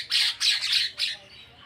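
Birds chirp and squawk at a doorway: three loud, bright squawking bursts in quick succession, then a fainter trailing call, with no voices.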